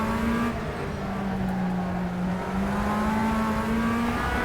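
A Tatuus USF-17 open-wheel race car in rFactor 2 at Palm Springs Road Course B drones steadily at high revs, its engine note holding a sustained tone with slight pitch dips and climbs throughout, loud and continuous with no talking.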